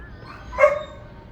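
A single dog bark, close and fairly loud, rings out once in an old city street in Jerusalem, with no talk over it.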